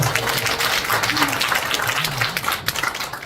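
At a peace-education forum in Pocheon, a crowd gives the city mayor a hearty round of applause, a continuous wash of many hands clapping together, with a low voice or background sound faintly underneath.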